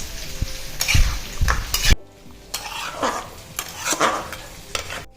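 A spoon scrapes and stirs chicken curry with yogurt and green chilli paste in a pan, giving repeated close, loud scraping strokes over a soft sizzle, with a brief quieter pause partway through.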